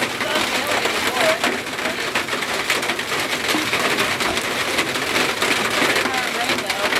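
Hard rain mixed with hail pounds down in a dense, steady roar with scattered sharp hits throughout, and voices sound faintly beneath it.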